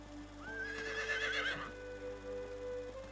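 A horse in the medieval game Medieval Dynasty whinnies once, a close, clear neigh of about a second that rises and wavers, set over a steady low background hum with no talk.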